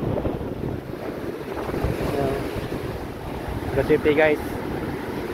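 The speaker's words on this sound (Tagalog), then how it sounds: "Kaya, lakas, ang alon." Strong sea waves and gusting wind roll continuously along Boracay beach during a high evening tide, a steady loud wash of surf with wind buffeting the microphone, and someone speaks briefly over it.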